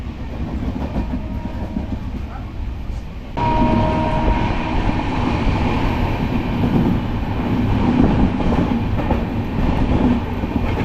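Sealdah–Puri Duronto Express running on the line, a steady loud rumble of wheels and carriage noise with rhythmic clickety-clack, intensifying partway through and continuing without pause.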